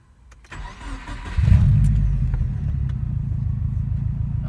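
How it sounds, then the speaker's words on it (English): A car engine cranks briefly after a few faint clicks, then catches and settles into a loud, steady idle, close by with no talk. "So let's start the car up and let's see how it goes."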